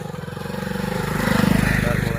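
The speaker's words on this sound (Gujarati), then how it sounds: "જો બાઇક પણ જાય રહ્યું." A motorbike rides past outdoors, its engine putter pulsing rhythmically and swelling louder toward the middle before holding steady, with a voice faintly mixed in.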